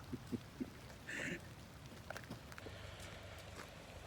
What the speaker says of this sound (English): now that we're ready, the rain starts coming down more